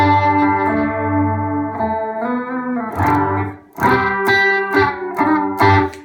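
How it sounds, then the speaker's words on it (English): Electric guitar played through a chorus effect built from two differently pitched delays, sustained chords shimmering and wavering in pitch, followed by sharper strummed chords ringing out loud and close. "It's a chorus sound made from two different pitched"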